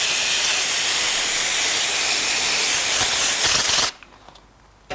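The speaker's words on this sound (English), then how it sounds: "Then we'll clean off the spillage with a bit of brake cleaner." Brake cleaner sprays in a loud, steady aerosol hiss for about four seconds while oil spillage is cleaned off an Escort Cosworth differential, then cuts off abruptly to near silence.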